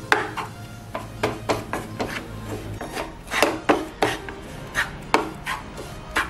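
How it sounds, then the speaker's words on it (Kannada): Wheat flour being fried and stirred in a pan for halwa, heard as a series of regular scraping strokes of a spoon against the pan, close and fairly loud, with no talking. "ಚೆನ್ನಾಗಿ ಫ್ರೈ ಮಾಡ್ಕೋಬೇಕು ಕಲರ್ ಚೇಂಜ್ ಆಗೋವರೆಗೂ ಗೋಧಿ ಹಿಟ್ಟಿನ ಬಣ್ಣ ಬದಲಾಗೋವರೆಗೂ ಚೆನ್ನಾಗಿ ಉರ್ಕೋಬೇಕು"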